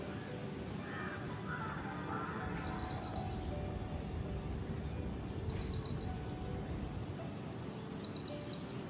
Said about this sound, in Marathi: त्या शांततेत झाडांचा, पक्ष्यांचा आवाज.